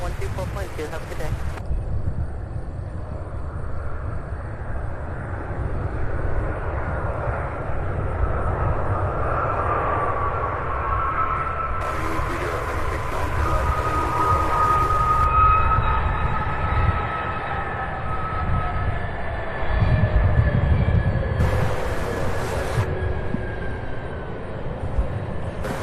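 An airplane lands at Louisville International Airport (SDF), its engines a loud, steady roar with whining tones that slowly slide downward as it comes in, with occasional voices in the background.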